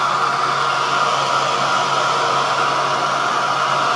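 A hair dryer on a low setting blows with a constant, loud whooshing hum that stays level throughout, with no voices over it.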